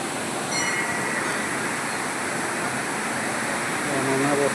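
Continuous broadband roar of the Panchalingeswar waterfall, loud and steady throughout with faint voices mixed in.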